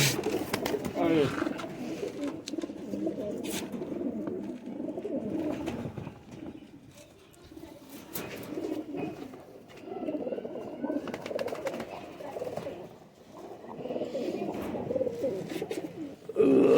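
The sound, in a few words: Golden Kasoori pigeons cooing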